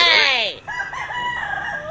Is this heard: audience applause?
no